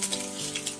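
Four or five garlic cloves sizzle in hot oil with popping mustard seeds for a kabuli chana sundal, a soft, steady frying hiss dotted with faint crackles.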